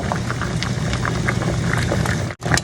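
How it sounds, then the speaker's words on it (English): Water at a rolling boil in a pot while cabbage leaves blanch, a dense steady bubbling and fizzing texture with small pops, close and continuous before a brief dip near the end, with no voices. "water has come to a boil, so we're just going to add our cabbage in one at a time and just let them blanch for 2 or 3 minutes"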